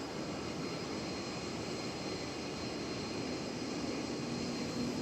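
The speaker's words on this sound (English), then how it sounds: "All right, off to Lost Wages goes this A320 Neo." Airbus A320neo jet departing DFW Airport, its engines producing a steady, broadband roar that holds loud and constant throughout.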